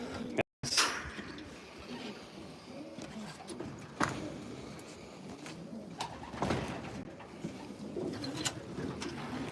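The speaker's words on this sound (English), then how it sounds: "I'll show you the loft birds." Racing pigeons coo inside a loft, with soft layered cooing and rustling from several birds close by, plus a few brief knocks and shuffles among them.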